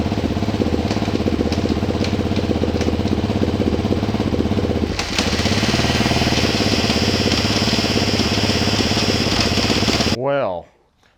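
An engine runs steadily and close by at an even, throbbing idle for about ten seconds, then cuts off abruptly into near silence.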